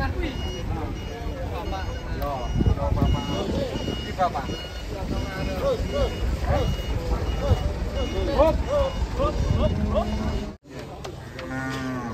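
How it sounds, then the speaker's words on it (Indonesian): Cattle transport trucks arrive and maneuver, with repeated loud cow moos and reversing beeps sounding near, over engine rumble, while people talk in the background. "Rombongan truk pembawa sapi"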